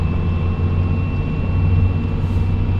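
A heavy 12V Cummins diesel truck engine with a stage 2 cylinder head runs with a constant deep drone and no voices.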